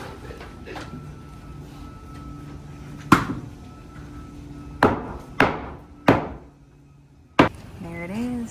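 Sharp wooden knocks of a hammer driving loose pieces of lumber back into place, a few separate strikes spaced irregularly over a low room hum, with brief speech-like sounds near the end.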